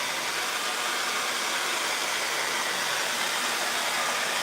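Steady, loud broadband blowing from an air dryer or heat gun drying a wood finish, a continuous close whoosh with no breaks and no voices.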